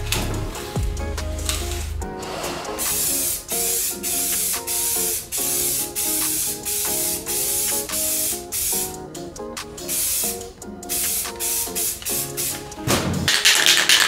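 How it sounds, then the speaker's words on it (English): An aerosol spray paint can hisses in a long series of bursts with short pauses between, painting letters on a mailbox, loud and close, over faint background music. "all we're gonna do is take our three colors of blue and then spray the fade on the letters"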